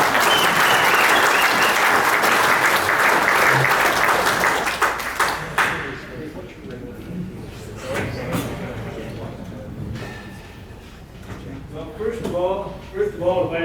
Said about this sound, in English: So let's give a round of applause for Don Thurnberg coming up here.